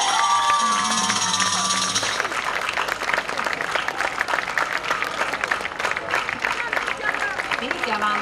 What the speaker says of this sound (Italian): Signore e signori, un bel applauso per Master Pep.